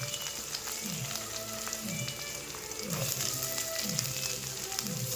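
Onion and green chilli frying in hot oil with mustard seeds, a steady close crackling sizzle with bursts of spitting and some stirring, no talking.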